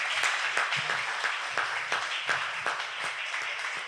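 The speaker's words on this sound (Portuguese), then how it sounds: "Aplauda ao Senhor, porque Ele é digno." A church congregation applauds in praise during a worship service: a fairly close, rhythmic clapping with regular beats and a lively crowd wash underneath, no speech on top.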